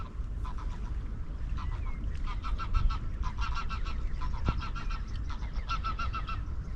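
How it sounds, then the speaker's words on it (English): Geese honking as they fly over a rocky seashore, a chorus of repeated nasal honks in irregular bursts, moderately distant, over a low wind and surf rumble. "Yep, the old geese"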